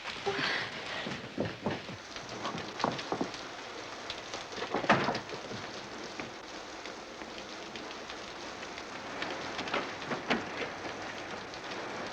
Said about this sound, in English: Now, it's starting to rain outside, so we've got to go now.